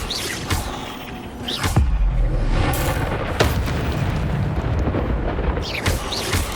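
Incendio fire spells cast in the Hogwarts Legacy video game on PS5 Pro burst out as booming whooshes, with several loud close blasts and rumbles spread through the clip and no speech.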